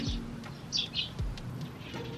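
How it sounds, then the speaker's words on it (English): Faint bird chirps, a few short high tweets in quick succession, over quiet background noise. "Do you love being woken up by birds?"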